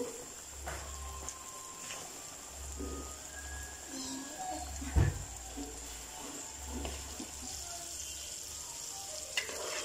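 Chicken wings fry in hot oil with a steady, close sizzle and crackle that runs unbroken, a low bubbling hum underneath and occasional louder pops.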